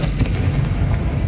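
A Confringo spell explosion from the Hogwarts Legacy video game, a loud, dense booming burst with a rumbling low-end body sustained for over a second.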